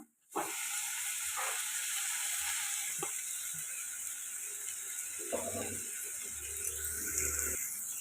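Tomato pieces fry in a pan with ginger garlic paste, giving a steady, close hiss of sizzling throughout, with a few clinks and stirring knocks.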